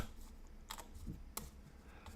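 Cardboard chariot tokens for the Nova Roma board game shuffled by hand, a few soft close clicks and taps with light scraping, quiet and sparse.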